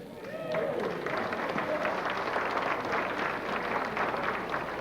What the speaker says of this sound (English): Let's give us an applause to Pietro Dero Jr.